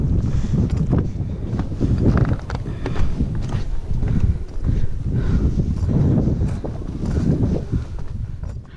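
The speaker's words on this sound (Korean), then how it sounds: "바람소리 들리시죠?" Strong wind roars and buffets across the open Hallasan mountain summit on Jeju's Eorimok trail, a continuous gusty rumble swelling and easing with no voices.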